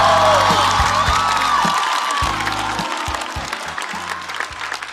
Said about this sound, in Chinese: 再次把热烈的掌声送给主咖刘晓庆